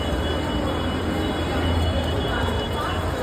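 Trains and a crowd at Thane railway station make a dense, loud, continuous rumble and roar throughout, with voices blended into the wash of noise.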